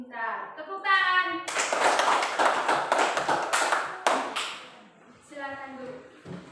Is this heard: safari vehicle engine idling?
no